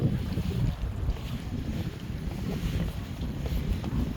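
Wind buffets outdoors during a weekend hike, a low, steady rumble of gusts against the microphone with no voices, close and continuous.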